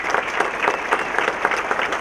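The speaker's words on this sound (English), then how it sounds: "A round of applause" A breakfast crowd gives dense, steady applause at a business appreciation event after a legacy award is presented to a Ford dealership. Many hands clap together in a loud, continuous wash with no gaps.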